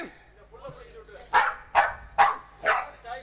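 A dog barks four times in a steady rhythm, loud and close, after a quieter stretch with a voice at the start of a Tamil village drama.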